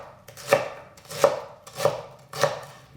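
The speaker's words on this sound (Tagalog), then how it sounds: "Hihiwain lang natin itong sibuyas." A knife chops onion on a cutting board in four evenly spaced, crisp strikes, close and clear with no talking.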